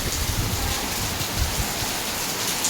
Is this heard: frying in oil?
no